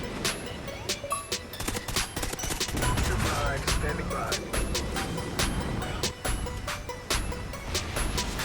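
A Honey Badger rifle fitted with a tracker sight fires in Call of Duty Ghosts, loud, rapid automatic bursts with brief pauses, over continuous game ambience and faint background chatter.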